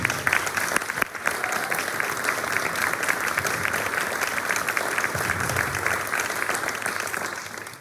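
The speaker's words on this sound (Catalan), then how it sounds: "Amb tots vosaltres, la Isa Sant Martín, un fort aplaudiment." A crowd at a Catalan municipal election campaign rally applauds loudly and steadily, a dense wash of clapping from many hands that carries on without a break.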